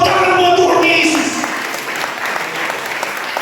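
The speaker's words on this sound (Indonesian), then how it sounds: "Tepuk tangan buat Tuhan Yesus." A church congregation applauds during a revival service at a Pentecostal church in Karor, the clapping loud and steady throughout with a voice heard in the first moments.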